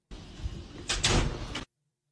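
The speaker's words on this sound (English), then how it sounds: "Oh my God, the back door?" A back door opens or closes, producing a short rolling slide with a couple of knocks and rattles before cutting off abruptly into silence.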